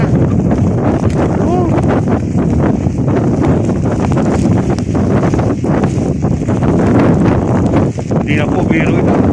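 Strong snowstorm wind roars without pause across a city street on Gran Via in Madrid, buffeting the microphone loudly and almost burying someone talking.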